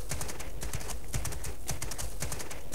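Rapid, rhythmic hoofbeats of a galloping horse in a horse-riding video game, steady and close, clopping in quick repeated clusters with no talking.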